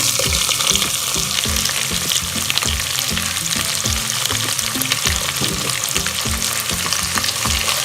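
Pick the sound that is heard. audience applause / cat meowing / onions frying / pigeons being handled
onions frying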